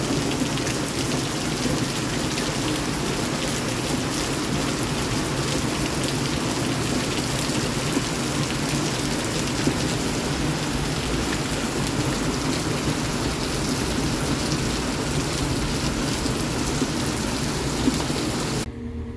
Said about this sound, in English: it was raining really bad